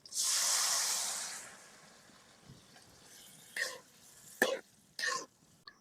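Onion and garlic frying in hot oil as vegetables go into the pan, a loud steady sizzle at first that fades to a low hiss, then three short sharp sputters near the end.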